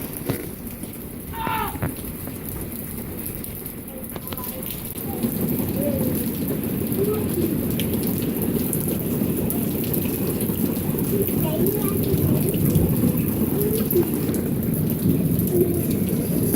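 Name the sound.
rain falling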